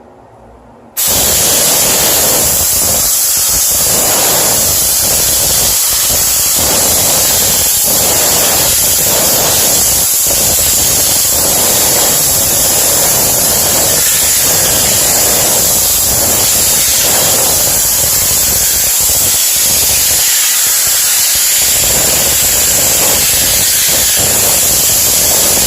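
A HomeRight SteamMachine steam cleaner sprays a bathroom sink area, a loud, continuous broadband hiss that starts abruptly and holds steady for a long stretch with slight fluctuations, no talking.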